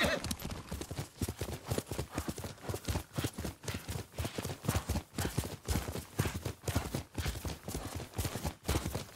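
Steady, rhythmic clip-clop of horse hooves in the Ghost of Tsushima video game, a fairly quiet, regular trotting beat with evenly spaced strikes continuing for several seconds.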